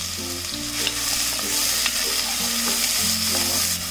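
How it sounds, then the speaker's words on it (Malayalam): Sliced onion and round-cut green chili sautéing on high flame, a bright continuous sizzle with scraping stirs of a spatula in the pan, close up and free of speech. "ഹൈ ഫ്ലെയിമിൽ വെച്ചിട്ടാണ് ഞാനിത് വഴറ്റുന്നത് കേട്ടോ."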